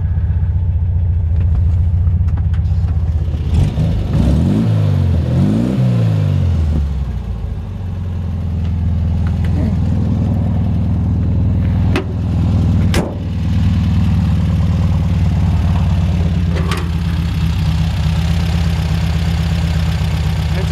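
A small 1979 Volkswagen engine runs steadily with a low throbbing rumble, briefly revving up and down early on, then settling back to idle.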